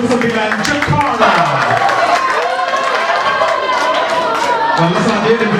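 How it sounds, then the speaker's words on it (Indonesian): Audience applause for students from SMP Negeri 249 Jakarta at a musical discussion event, a steady wash of clapping and crowd noise mixed with voices and a loud speaking voice throughout. "Tepuk tangan buat teman-teman dari SMP Negeri"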